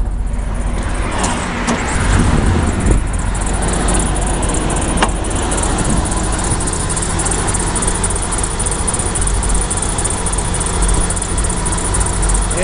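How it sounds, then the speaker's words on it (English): A 1998 Chevrolet 3500HD heavy-duty truck engine runs steadily with the hood open, a constant close, broadband rumble that holds without pause, with no talking. "Engine sounds really good."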